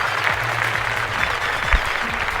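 An audience applauds a helper after a mini excavator track was put back on, a steady wash of clapping over low rumbling background noise.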